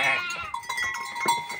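Goats on a farm bleat in quick overlapping calls, close and fairly clear, with several sharp cries in under two seconds and no talk over them.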